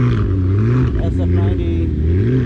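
McLaren P1 supercar engine revving close by at a car show, a loud deep roar rising and falling in pitch, with voices talking over it.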